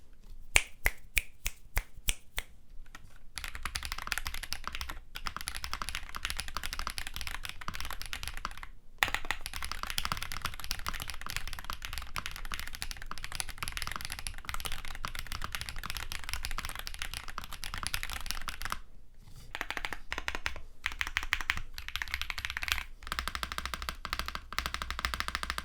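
Gamakay TK75 Pro aluminum keyboard with its PE foam removed is typed on steadily and up close, producing a rapid, even stream of crisp key clacks with a few brief pauses.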